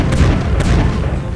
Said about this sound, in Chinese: 这爆炸是挺厉害的